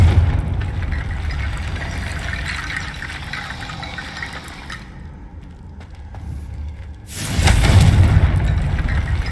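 A Confringo fire-blast spell in Hogwarts Legacy, a rushing, roaring burst that thins into a quieter hiss and then erupts again in a loud, booming surge near the end, with no speech.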